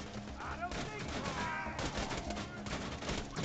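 Video game gunfire crackles in steady bursts through the whole stretch, fairly loud and dense, while players talk over it.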